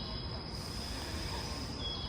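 A train pulls into a station with a steady low rumble and a thin high wheel squeal along the rails, heard at moderate distance and fairly faint, with no talking.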